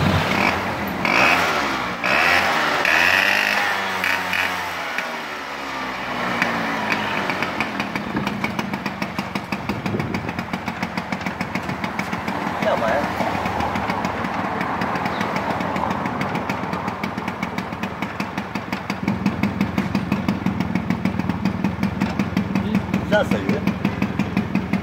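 A Honda Shadow 90cc two-stroke motorcycle starts for the first time and settles into a steady idle. The engine runs continuously and fairly loud throughout, with voices talking over it.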